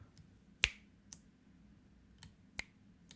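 Finger snaps in a quiet room: one sharp, loud snap, then a faint one, a soft pause, and another clear snap a couple of seconds later, irregularly spaced and without any talking.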